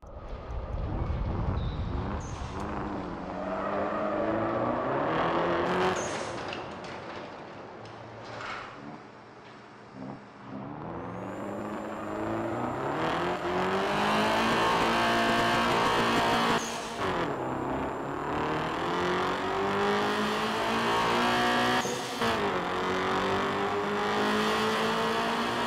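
Engine of a car driven in the street-racing video game Night Runners, a steady rising and falling whine through gear changes that runs almost the whole time, loud and close with no talk over it.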